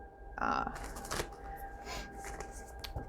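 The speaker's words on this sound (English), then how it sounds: "I'm gonna reshuffle these because I am using the same decks for everyone" A deck of tarot cards being reshuffled by hand, quick papery riffles and flicks close to the mic, one sharp burst early on, then softer continuous shuffling.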